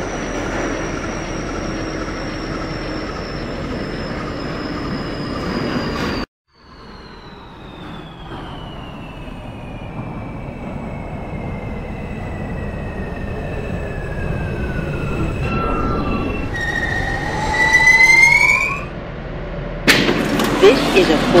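Simulated R160A subway train on the New York R line, a steady rail rumble with a descending motor whine, a sudden brief drop to near silence, then squealing wheels and rising pitch near the end, no talking.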